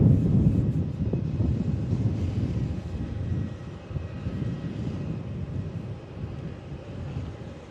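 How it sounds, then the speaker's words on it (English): A 32-year-old Boeing 737-300 freighter from Auckland comes in to land, its heavy low rumble loudest at first and then gradually fading with a faint thin whine above. "737 freighter. 737-300."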